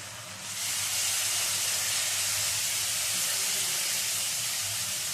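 Water splashed into hot, well-fried spice paste for a fish-roe curry throws up a sudden loud steaming hiss that stays strong and steady for several seconds, with no voices.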